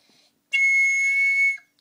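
A single shrill, piercing squeak from a recorder blown too hard, held for about a second after a brief quiet moment, bright and whistle-like.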